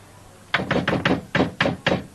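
Soft, quiet knocking on a door in a 1984 Coronation Street scene: seven light, evenly spaced raps in two short groups, close by and clear against a quiet room.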